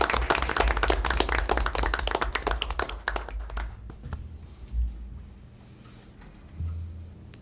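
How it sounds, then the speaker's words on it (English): Applause from the audience at a Milford city council meeting, with brisk clapping from a modest crowd that lasts about three seconds and then dies away to a few stray claps and room noise. "a round of applause for"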